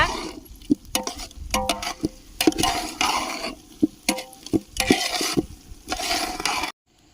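Masala mixture with salt being stirred in a pan for palak egg biryani, a spoon scraping and clanking repeatedly in an irregular rhythm over a soft sizzle, close and fairly loud, stopping abruptly near the end.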